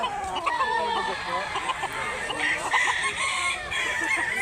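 Gamecock roosters at a chicken sale in Mantalungon, Barili, Cebu, crowing and clucking in a busy, continuous chorus of many birds near and far, with people talking among them.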